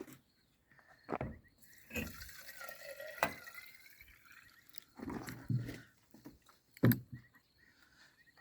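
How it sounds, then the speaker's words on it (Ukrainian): Cold water poured into a garden sprayer tank to dissolve fungicide for treating apricot trees: quiet, intermittent splashing and sloshing with a few hollow knocks from the tank, close by and without talk. "Так, заливаємо його водою нехай воно собі розтає."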